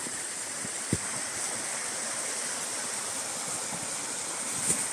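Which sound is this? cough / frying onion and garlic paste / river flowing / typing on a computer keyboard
river flowing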